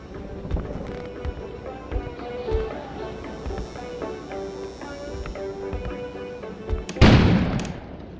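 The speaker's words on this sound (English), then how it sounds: "An explosion suddenly occurred outside." An explosion outside in the video game Kona lands as a sudden heavy boom with a rushing burst of noise near the end, following scattered sharp thuds and clicks over a low ambient game backdrop.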